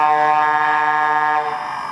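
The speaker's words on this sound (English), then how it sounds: "The electronics are set up so that you can also run an air horn if you prefer" Air horn from the sound decoder of an O scale Southern Pacific AC-12 model locomotive, one sustained loud chordal blast that holds steady and then cuts off with a short fading tail.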